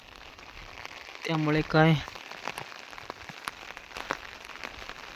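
Rain keeps falling outdoors as a faint, steady patter, briefly overlaid by a short spoken remark before the soft drizzle continues alone.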